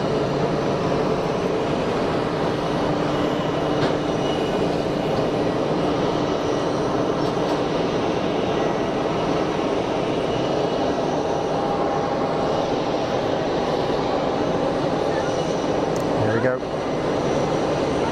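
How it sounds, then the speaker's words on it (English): A Boeing 777-300ER arriving from Dubai and landing at Geneva Airport gives a steady, loud jet roar that holds throughout, with a brief voice in the foreground. "Triple 7-300 ER in from Dubai."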